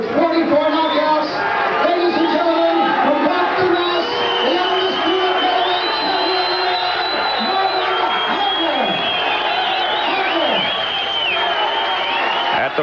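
A packed boxing arena of some 2,000 spectators roars and cheers at a champion's introduction, a loud, sustained wall of crowd noise with whoops and shouts rising throughout.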